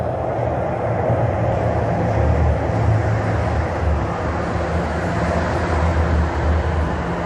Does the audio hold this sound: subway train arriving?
yes